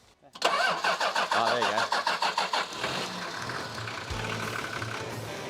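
An old Toyota Land Cruiser 4WD engine cranks with a rapid rhythmic churning, then catches and settles into a rough idle, close by, while a voice speaks briefly over it.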